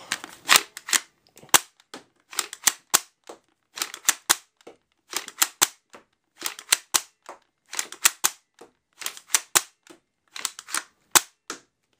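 An HVZ Zombie Fighter 8 Shot toy blaster fires repeatedly, giving crisp mechanical cracks in tight bursts with clicking and priming between volleys, close and loud with no talk.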